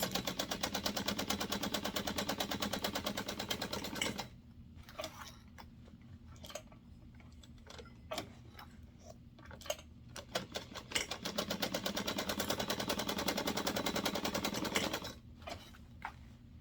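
Sewing machine backstitching the notches of fabric, with loud continuous stitching runs at the start and end and a quieter stretch of scattered clicks and taps in between as the fabric is turned.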